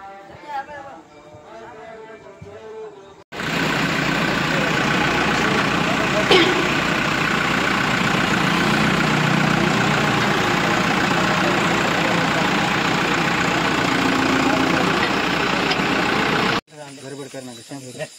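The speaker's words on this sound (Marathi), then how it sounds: "हे बघा ट्रॅक्टर रेडी झाले." Tractor engine idling outdoors during a Ganesh immersion procession, a loud continuous low rumble for most of the clip, with voices before and after.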